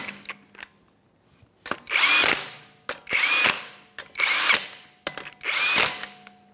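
An impact wrench runs down the five 21mm lug nuts on a 2011-2020 Toyota Sienna front wheel in four loud, close bursts of roughly a second each, with short pauses and clicks between them.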